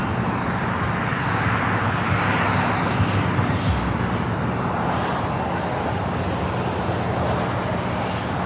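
A Qantas airliner in the older livery rumbles past at LAX, a steady, fairly loud engine roar mixed with distant road traffic and no clear voices.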